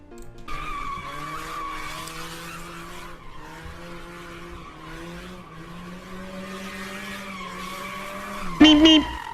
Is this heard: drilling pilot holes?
no